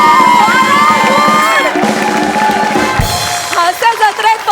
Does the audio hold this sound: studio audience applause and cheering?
yes